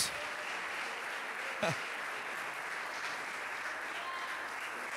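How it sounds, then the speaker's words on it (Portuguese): A church congregation claps together during a worship service, a steady wash of applause heard from a distance in a large room, with a faint voice in the background. "Quem acredita nisso, aplauda, glorificando a Jesus."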